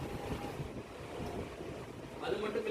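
A low-budget air cooler fan blows a steady, airy whoosh close to the microphone, with a slight shift in pitch near the end as the speed setting changes.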